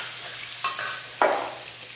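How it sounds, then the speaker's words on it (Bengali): Potatoes with salt and turmeric fry in a pan, a soft steady sizzle broken by two quick spoon stirs. "দিয়ে আলুটা বেশ লাল লাল করে ভেজে নেব"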